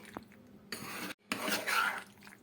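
Spoon stirring white sauce for pasta in a pan, soft scraping and metallic clinks in two bursts split by a short silence, close and moderately quiet.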